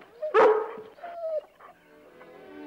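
A dog barks and yips close by, one sharp loud bark followed by whining, whimpering yelps that fade into quieter sounds.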